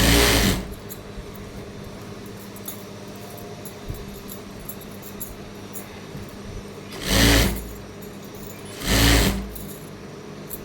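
A sewing machine stitches a fall onto a green and navy saree, running in a loud burst at the start and two short whirring bursts near the end, over a steady background hum without talk.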